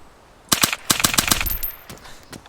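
Rapid hip-fired automatic gunfire in the DayZ Standalone game, set in the town of Krasnostav: a loud, close burst of about seven or eight shots over roughly a second, followed by trailing echoes and clatter.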